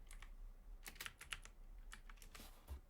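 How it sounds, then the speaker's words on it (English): Quiet typing on a computer keyboard into a web browser, a short run of soft, irregular key clicks over a faint background hum. "Now go to your web browser and type in DPI Analyzer."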